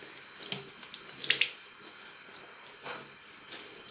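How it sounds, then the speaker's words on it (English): A bathroom tap running to wet a face cloth, a soft steady stream with faint splashes and drips close by, quiet and intimate, with no voices heard. "I forgot to wet my face cloth before I started because I'm just about to wash my face."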